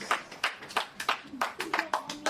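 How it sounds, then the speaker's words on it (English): Audience at a podcast launch party clapping, a short run of about a dozen distinct, evenly spaced hand claps, fairly faint and close with no voices over them. "A round of applause, please"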